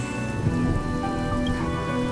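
Rain falls steadily in the Penacony setting of the video game Honkai Star Rail, a dense, even patter of drops on surfaces with faint tonal music humming underneath.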